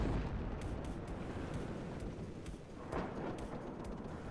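Artillery barrages in the WARNO strategy game: dense, continuous rumbling booms with repeated sharp impacts rolling over each other at steady loudness, with no talking.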